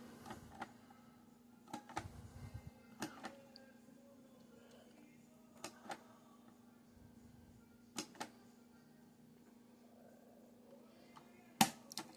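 A Powermatic 5 Plus electric cigarette-rolling machine runs quietly with a faint steady hum, broken by sharp mechanical clicks and clacks at irregular intervals a few seconds apart.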